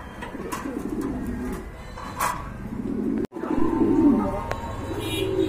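A pair of black exhibition pigeons coos in low, throaty rolls close by, with a steady murmur of cooing and a brief cut partway through.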